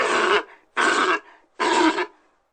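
A seal gives three loud, rough barking grunts at an even pace, each a short throaty burst followed by silence, heard close and alone.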